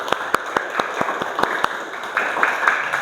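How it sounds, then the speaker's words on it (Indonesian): A fifth-grade elementary school class claps for classmates after a reading lesson. Fairly close hand claps come in a quick, uneven run of about a dozen distinct smacks, which soften into lighter clapping toward the end. "tepuk tangan buat ketiganya"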